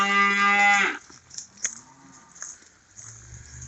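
Farm cattle let out one loud, long moo that ends within a second, followed by quieter scattered rustling and faint thumps nearby.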